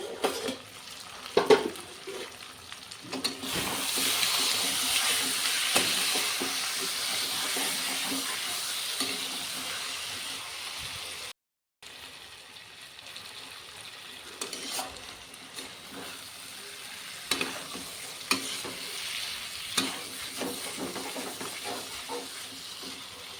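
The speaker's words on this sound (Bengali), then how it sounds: "এভাবে ঢেকে ঢেকে রান্না করলে চিকেনটা একবারে সেদ্ধ হয়ে যাবে, ভাজাও হয়ে যাবে" Chicken sizzles and crackles steadily in a covered pan for a long stretch, with occasional clinks and stirring and a brief break partway through.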